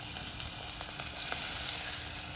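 Three large chillies and garlic paste frying in hot oil with cumin seeds for sev usal, a continuous bright sizzle with small crackles and pops, close and steady with no talk.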